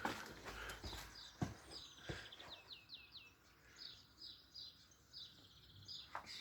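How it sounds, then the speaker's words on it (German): Several birds chirp and trill outdoors on a morning farmyard, repeated short high calls coming and going at moderate distance, with a few soft knocks and thumps nearby. "man hört die Vögelchen schon zwitschern"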